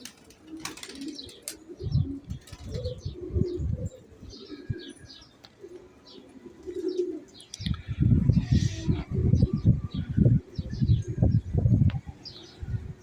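Pigeon coos from young racing pigeons at a farm loft, low rhythmic cooing bursts repeating nearby, strongest in the latter half, with faint chirps and wing flaps around them.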